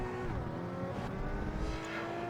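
Race car engines roar in Project Gotham Racing 2, including a Jaguar and a Ferrari, a steady, loud, buzzing drone with shifting pitch as the cars run close together, with no voices.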